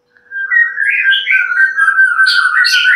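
An oriental magpie-robin (murai batu) sings alone and close, a loud continuous run of sweet whistled phrases with rising and falling notes and brief harsh chatter near the end.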